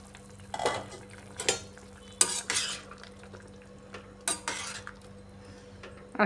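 Tilapia fish curry gravy with ridge gourd and potato bubbling in a pot on a gas stove, a soft steady simmer broken by a few loud bursts of utensil scraping and clatter.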